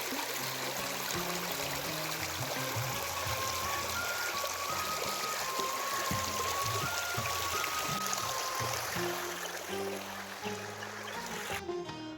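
Steady rushing and trickling of a year-round river beside a temple in Chandor, Ratnagiri, Maharashtra fills the whole stretch, constant and fairly close, with a faint melodic tone drifting above it.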